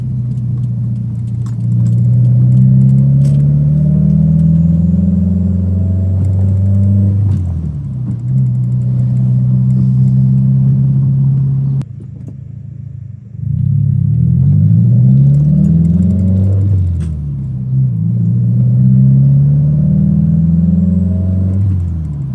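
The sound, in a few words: 2017 Subaru WRX running after clutch replacement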